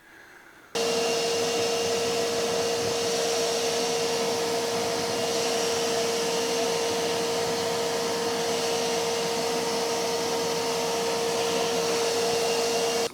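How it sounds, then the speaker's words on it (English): A vacuum cleaner runs steadily, sucking up crumbled foam bits from a Mini headlining board during car upholstery repair, a loud constant whine that switches on after a brief quiet start and holds throughout. "hoover all the bits off."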